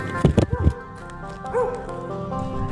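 A loose dog barks near a derelict abandoned building, giving a few sharp close barks in a quick burst followed by quieter whimpering tones, with a voice murmuring faintly in the background.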